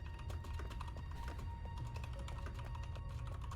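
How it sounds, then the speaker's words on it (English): Typing on a computer keyboard, a quick irregular run of light key taps heard fairly close and moderately quiet over a low background hum. "Is that you typing your review"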